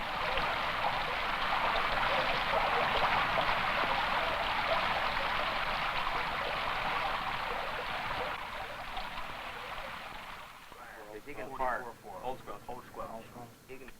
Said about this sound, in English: only the constant sound of rain against metal.